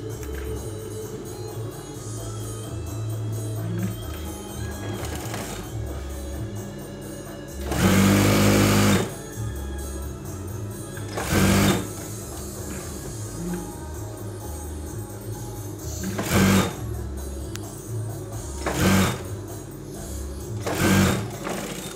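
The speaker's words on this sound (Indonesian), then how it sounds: "Lalu kita jahit pinggirnya ya." Electric sewing machine stitching along the edge of a trouser side pocket, a steady close mechanical whir running throughout with several louder bursts as the stitching speeds up.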